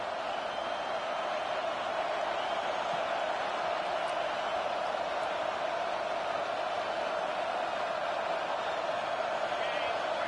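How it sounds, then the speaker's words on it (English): A football stadium crowd roars on third down as fans rally behind the defense, a loud, steady wash of cheering noise that holds unbroken throughout. "Decibels rising as the crowd gets behind this defense on 3rd down."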